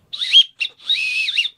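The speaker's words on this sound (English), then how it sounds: "And then the sheath is a whistle itself" A small whistle built into an Ozark Trail survival knife sheath is blown three times, shrill and close, two short toots followed by a longer warbling blast, with no talking.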